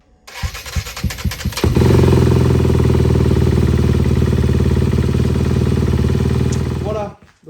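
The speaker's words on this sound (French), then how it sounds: "faire tourner la moto au ralenti pour faire sécher un peu tout ce qu'il faut" A motocross dirt bike kicks over with a few sputters after washing, then settles into a loud, steady idle that runs for several seconds before cutting off.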